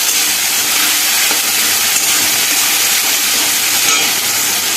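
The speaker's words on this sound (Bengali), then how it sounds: "এবার খুব ভালোভাবে এটাকে কষিয়ে নেবো" Spice paste with potato and coconut sautéing in a pan after a splash of water, giving a loud, steady hiss and sizzle that runs unbroken throughout with no talking.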